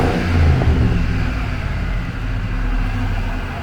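A 2003 Ford F-150 Harley Davidson Edition engine whines as it revs up, then settles into a steady, loud, close-up drone.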